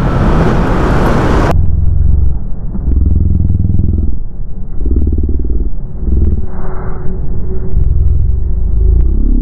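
Yamaha Nmax 155 scooter riding slowly over a gravel-strewn road, a loud steady engine drone and rumble close up with the pitch rising and falling, no talk.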